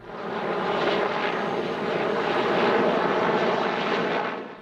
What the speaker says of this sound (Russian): Вертолет сбрасывает ложные тепловые цели, чтобы избежать вражеских ракет